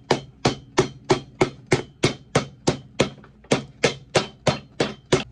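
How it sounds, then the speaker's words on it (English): A boot midsole being hammered into place, about fifteen sharp, evenly spaced hammer blows striking close and loud in a steady rhythm, with no talking. "And then just hammer it on."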